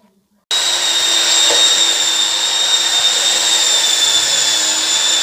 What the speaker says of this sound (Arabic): الكهرباء ثابتة وهي شغالة طبعا بتمسك المكنة بالوضعية بتاعتها هما عاملين لك وضعية متظبطة على كده وهنا بتطلع وتنزل